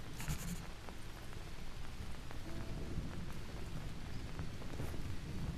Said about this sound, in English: Wow, look at the rain.